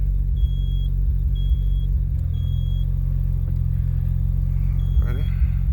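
A Mazda RX-7 FD rotary engine, just back together after a fuel pump gasket replacement, runs at a steady idle, a continuous low droning rumble with a faint high whine riding on top and no talk.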